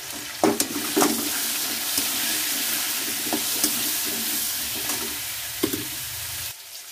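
Potatoes fry in a pan with a constant loud sizzle while a spatula stirs them, giving several sharp scraping clanks at irregular intervals; no one speaks.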